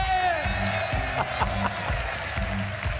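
A Japanese crowd cheering and clapping at a GT World Series Nations Cup event in Tokyo: dense sustained applause and whoops, loud and continuous, with an amplified voice ringing over the noise.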